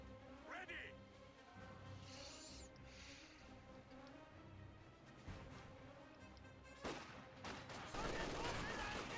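Light machine gun fire in Company of Heroes 2, with shock troopers and conscripts fighting grenadiers in a Soviet vs Wehrmacht 1v1 match, heard as dense bursts and scattered shots of gunfire under steady commentary voices.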